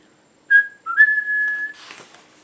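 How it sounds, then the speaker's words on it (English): A person whistles a few clear tones, a short note then a long sustained one, close and alone, ending with a soft breathy rustle. "He finally learned how to whistle."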